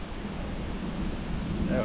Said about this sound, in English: There's a bloody big wind up here